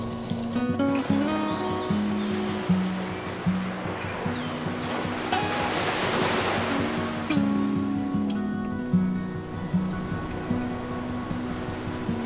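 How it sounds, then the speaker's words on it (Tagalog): Ocean waves wash onto the beach at Pinelake campground in San Narciso, Zambales, on an overcast day. One broad surge of surf swells midway, beneath persistent tonal hums and a low background rumble. "na-enjoy naman namin yung alon"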